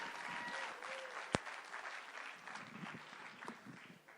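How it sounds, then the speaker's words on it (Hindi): An audience at a film trailer launch event claps in a steady, dense wash of applause, fairly distant and even, with one sharp louder clap standing out. "आइए प्लीज, कम ऑन, जोरदार तालियां बजनी चाहिए।"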